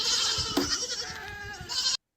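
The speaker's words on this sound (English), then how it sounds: "what is the sound of the goat?" A goat bleats from a played recording, a wavering, nasal cry that swells, dips and rises again for about two seconds before cutting off abruptly, heard alone without talk.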